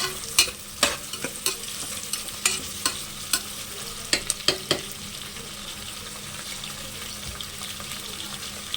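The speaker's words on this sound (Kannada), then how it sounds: "ಇವಾಗ ಹಸಿಮೆಣ್ಸಿನ್ಕಾಯಿನೂ ಆ್ಯಡ್ ಮಾಡೋಣ." Green chillies fry in a pan with onions, giving a steady sizzle broken by scattered sharp crackles and pops during the first half. The frying then settles into an even hiss with no talking.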